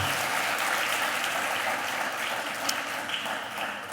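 Church congregation clapping in worship at a service in Comitán, Chiapas, Mexico: sustained, dense applause filling the room at an even level for several seconds, with no talking over it.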